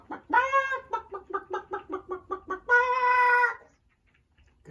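A hen clucking close up: a long squawk, then a rapid series of short rhythmic clucks, ending in another drawn-out squawk before falling quiet.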